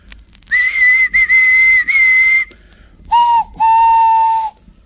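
Steam engine whistle sounding in several long, shrill blasts: three high-pitched toots in a row, a short pause, then two lower, longer blasts, loud and close with faint hiss beneath.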